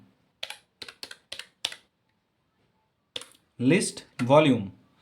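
Keys on a computer keyboard are tapped to enter a command at the Windows command prompt: five quick, sharp clicks in a row, a pause, a couple more taps, then someone speaks close by.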